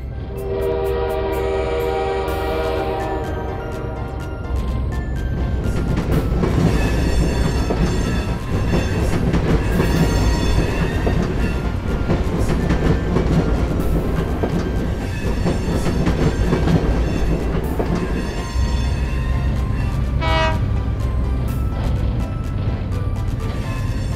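Trains run on test tracks inside a train factory: steady rolling rumble with clickety-clack, broken by several loud horn and whistle blasts, including a bright sustained tone near the end, with no talking.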